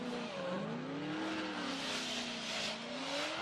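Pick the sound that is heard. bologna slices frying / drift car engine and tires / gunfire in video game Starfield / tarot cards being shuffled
drift car engine and tires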